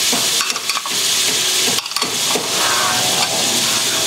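Onions, capers and artichoke hearts sizzling loudly in a hot pan, a steady bright crackle broken by a few scraping stirs.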